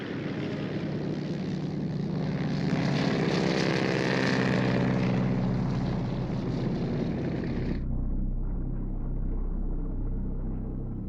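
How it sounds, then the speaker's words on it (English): A steady droning rumble of approaching propeller aircraft over the naval base at Pearl Harbor, holding level for about eight seconds before the higher tones cut off and a low rumble continues. "a faint drone of approaching aircraft was heard over the United States naval base at Pearl Harbor"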